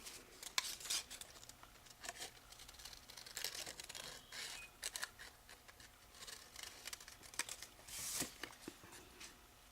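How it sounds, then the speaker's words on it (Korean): Scissors cut a cactus shape out of paper along drawn lines, giving a quiet, irregular series of crisp snips and paper rustles, close and alone. "이렇게 선대로 선인장 모양을 다 가위로 잘라주시면 되겠습니다."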